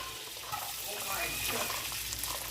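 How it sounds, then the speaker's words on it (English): Diced onion sizzles gently in melted butter, a low, steady frying hiss heard faintly beneath a speaking voice. "I got the butter melting, and I'm going to add in the diced onion"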